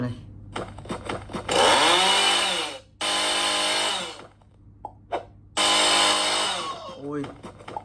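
A power saw in the Troll Quest video game runs in three loud, buzzing bursts of a second or two each, separated by short pauses with a voice talking between them.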